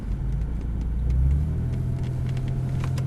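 A Porsche Boxster rolls slowly back toward the pit stand on a track, its engine a low steady rumble with a slight swell midway, close and without talk.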